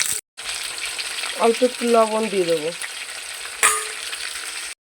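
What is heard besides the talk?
pointed gourd (potol) frying in oil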